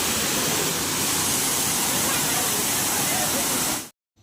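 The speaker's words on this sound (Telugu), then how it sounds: "వాటర్ ఎంత పైనుండి పడుతున్నాయో చూడండి, బండల్లాగా తాకుతాయి మనము అక్కడ నిలబడ్డామంటే" A waterfall roars as water plunges from a great height, a loud, steady wash of broadband rushing close to the listener that cuts off abruptly near the end.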